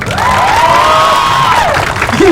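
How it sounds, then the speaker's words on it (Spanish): Adults in a crowd at an outdoor clown show in the Alameda clap and cheer, a loud, sustained wash of applause with a long rising and falling whoop on top. "Ahora chequen, el aplauso para adultos."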